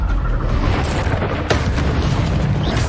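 A fire spell blast in the Hogwarts Legacy video game erupts as a loud, dense booming roar with crackling bursts, sustained for a few seconds with a sharp accent midway.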